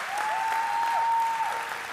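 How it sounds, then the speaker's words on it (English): Church congregation clapping hands to welcome first-time guests, a steady, moderately distant patter of applause with a faint sustained tone underneath. "Can we give all of our first-time guests a big hand clap?"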